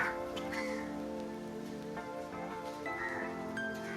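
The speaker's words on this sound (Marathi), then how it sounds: "आणि इथे खूप जास्त पाऊस पडतो, मी तुम्हाला दाखवतो." Steady heavy rain hiss at a forest resort in Bhivpuri, even and continuous, with faint tonal sounds layered over it and no voices.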